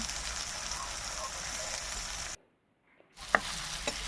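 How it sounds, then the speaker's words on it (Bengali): Bitter gourd slices sizzle and crackle as they fry in a pan, a steady close hiss that cuts out briefly before resuming with a few clinks from stirring. "এখানে আমার করলাগুলো ভাজা হয়ে গেছে এর থেকে আর বেশি ভাজার প্রয়োজন নেই"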